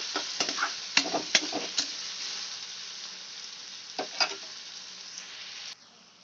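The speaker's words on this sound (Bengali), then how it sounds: "পেঁয়াজটা দিয়ে আমি একটু লাল করে ভেজে নেবো খুব বেশি লাল করব না" Chopped onion frying in oil until lightly reddened for a stuffed idli dish, a steady soft sizzle with several sharp spatula taps and scrapes early and again midway, then cutting off abruptly near the end; no speech.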